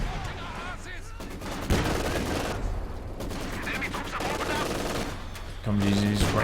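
A Maxim machine gun in Company of Heroes 2 rattles out sustained bursts, loud and close, among scattered battlefield blasts, with a commentator talking over the fire and a heavy thump midway.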